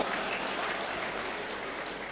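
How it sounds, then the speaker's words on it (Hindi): Applause from an audience at a Hindi comic poetry gathering, a dense steady patter of many hands clapping at once, moderately loud and continuous throughout without pauses. "एक बार मेरे सम्मान में भी ताली बजाओ।"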